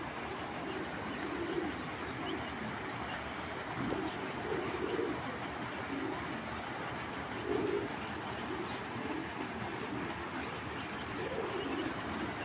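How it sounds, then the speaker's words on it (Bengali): Pet pigeons, including Indian Rampuri and Turkish breeds kept for sale, coo softly in short low bursts every few seconds over a steady background hum, with no voices. "সব থেকে সুন্দর কবুতরগুলো।"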